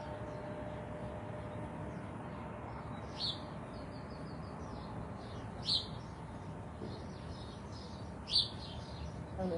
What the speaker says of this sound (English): I don't know if you guys can hear all the birds.